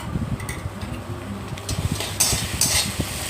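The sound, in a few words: deep frying chopped onion with ginger and green chili paste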